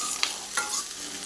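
Okra with green chilli and garlic sautéing in a pan, a steady bright sizzle broken by a couple of quick stirring scrapes, close and continuous.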